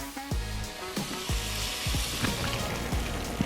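Butter melts and sizzles in a pan, giving a continuous close hiss broken by several spatula scrapes and knocks against the metal, with nobody talking.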